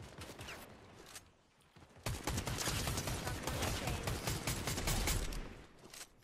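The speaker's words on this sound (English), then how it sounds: "Shooting at me?" Rapid bursts of video game gunfire rattle in dense volleys after a brief quieter lull, the shots overlapping into a continuous fusillade at moderate loudness.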